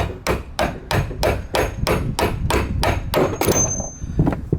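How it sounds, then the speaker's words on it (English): A car strut being hammered out during a BC Racing coilover install on a 9th gen Civic Si, a rapid even series of about a dozen sharp metallic blows, close and loud, ending in a few scattered knocks. "So it's gonna hammer this out"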